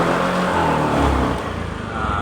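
Honda Beat injection motorcycle engine being revved, a loud close engine roar that holds steady, then drops and wavers unevenly toward the end.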